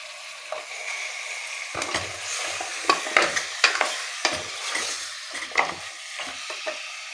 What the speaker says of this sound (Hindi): ये सारा गोश्त, ये नली की हड्डियाँ भी, जाल की हड्डी भी और गोश्त भी। और इसको फ्राई करना है गोश्त को।